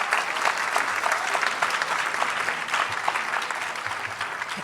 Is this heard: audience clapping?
yes